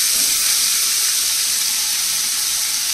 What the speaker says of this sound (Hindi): अब हम डालेंगे इसमें ये कटा प्याज।